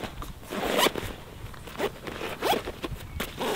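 A large zipper on a Drifta Stockton recovery and dunny shovel kit bag is run along its track in several quick rasping pulls, close and clear, with no talking.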